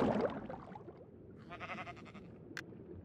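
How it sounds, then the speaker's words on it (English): Sheep bleat in Minecraft, with a short wavering bleat in the middle that is faint and low under the game sounds, and a brief sharp tone just after it. "All these sheep!"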